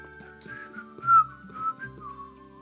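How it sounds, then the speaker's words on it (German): A person whistles a wandering melody during a live stream of the farming game Coral Island, the tune gliding up and down over quiet game music in the background. "Pfeifen im Stream, nie gut."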